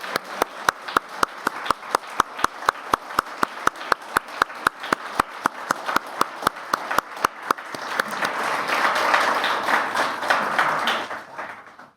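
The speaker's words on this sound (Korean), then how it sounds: "박수하겠습니다" A church congregation claps at a Sunday worship service marking the church's 70th anniversary: steady, rhythmic unison clapping that swells into a dense, sustained round of applause before cutting off.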